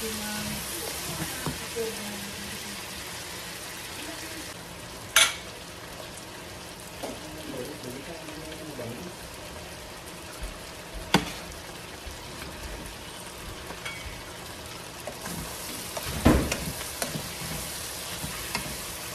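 Garlic sautés in a pan for ginisang munggo, a steady hiss of frying oil with occasional sharp clinks and scrapes of a utensil stirring, moderately close and persistent throughout.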